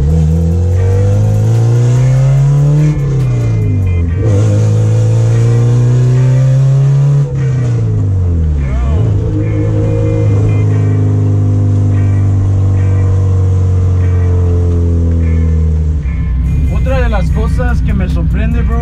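Honda Civic engine, naturally aspirated and built to rev toward 8300 rpm, revving hard and loud up close, with repeated rises and drops in pitch and a final sharp climb, while voices talk over it.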